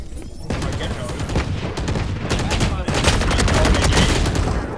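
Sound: gunfire in a video game

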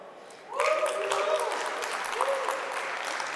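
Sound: audience applause at conference talk

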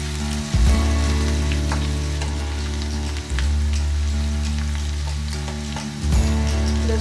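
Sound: garlic and green chilies frying in oil

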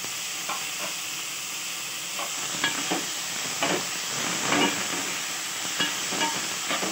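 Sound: tomato pieces frying in a pan

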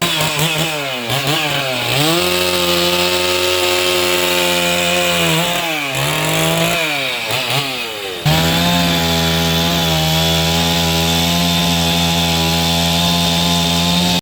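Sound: firefighters cutting a fallen tree with a chainsaw

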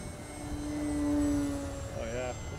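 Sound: RC model F6F Hellcat airplane flying overhead

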